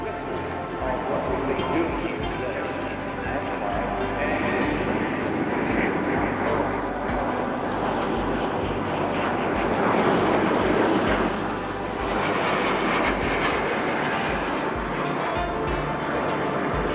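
Vampire and Macchi jet aircraft fly past at an airshow, a continuous distant jet roar that swells and fades while a commentator talks over it.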